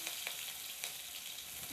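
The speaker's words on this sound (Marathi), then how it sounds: "मोहरी टाकते, हिरवी मिरची, लसूण आणि जिरे जे मिक्सरला वाटलं होतं ना त्याचं थोडस वाटण." Mustard seeds with a ground paste of green chilli, garlic and cumin fry in a pan, giving a soft, steady sizzle broken by a few sharp pops.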